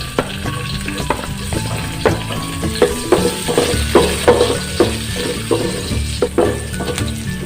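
Garlic sautés in leftover pork fat for Bicol express, a steady crackling sizzle broken by repeated scraping and stirring strokes of a utensil in the pan, close and loud with no talk.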